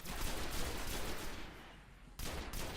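Rapid assault rifle fire in the video game Destiny, loud and continuous, with dense overlapping shots that briefly thin out before a final close burst.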